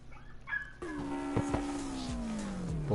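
A dog whimpers in a series of thin, wavering whines that slide downward, fairly close and alone, with a soft rumble underneath.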